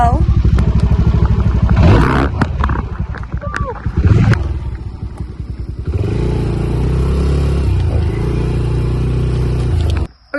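A tiny quad bike (ATV) engine putters along at low speed, loud and close, with steady drone and clattering, while people talk over it in a beach setting.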